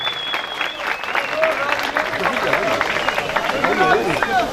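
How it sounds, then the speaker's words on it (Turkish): A crowd at a championship and promotion celebration for a Turkish football club applauds in a sustained burst, with cheering voices and hubbub mixed into the clapping. "Onlara da bir alkış bir sizlerden tebrik istiyorum."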